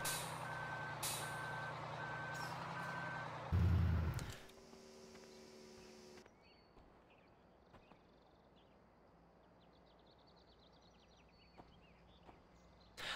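A truck in Farming Simulator 2013 reverses with evenly spaced warning beeps over its engine drone, then a sharp hiss of air brakes, after which the scene drops to a quiet low rumble with faint clatter.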